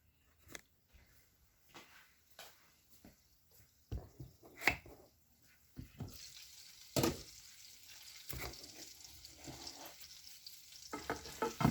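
Beyond Meat and Lightlife plant-based burger patties cook in a hot pan. Quiet taps and scrapes mark the flipping, and a broad sizzle grows louder through the second half, with sharp clatters near the end.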